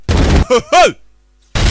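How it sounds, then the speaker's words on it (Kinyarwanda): Gunfire from an Indian action film comes as two short, loud, harsh bursts at the start and end, with voices crying out between them. "Tangira kubarasa."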